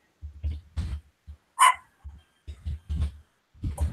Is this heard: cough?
no